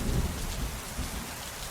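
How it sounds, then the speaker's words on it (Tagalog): Heavy rain pours in a dense, steady roar with low rumbling weight, loud and close, alone without voices. "patuloy pa rin sa pagbuhos ang ulan"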